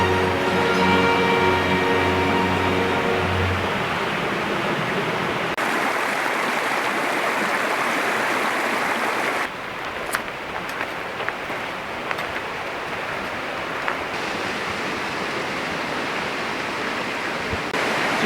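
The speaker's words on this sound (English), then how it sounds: "All the snow melt is pouring down the side of the trail, turning cliff sides into waterfalls" Snowmelt pours down cliff sides into waterfalls beside a Southern California mountain trail in Colby Canyon, a loud, continuous broadband rush that holds steady throughout.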